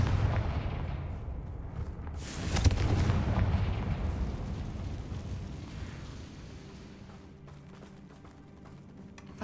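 A Confringo fire spell explosion in Hogwarts Legacy, a loud booming blast that swells and then rumbles away over several seconds, followed by quieter crackling debris and ambient noise.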